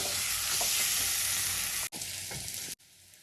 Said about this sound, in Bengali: আমি খুব ভালো করে কষিয়ে নিয়েছি,